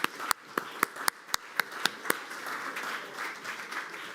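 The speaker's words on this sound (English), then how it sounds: "you deserve a big applause for your attendance" Audience applause at a conference on the future of European Jewry, with sharp individual claps standing out over a steady wash of hands that carries on evenly to the end.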